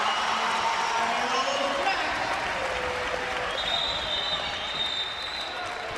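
A crowd at a college basketball game between FAMU and Rutgers roars in the closing moments, a sustained wash of cheering and applause that fills the space while an announcer talks over it.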